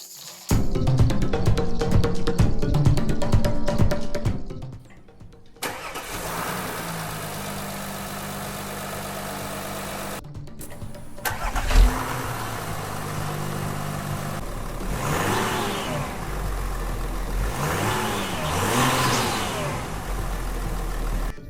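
A 2015 Audi Q5 with a 3.0L V6 TDI diesel engine starts and runs. A short pause is followed by a thump as the engine catches, then a steady close idle with several rising revs and no talking.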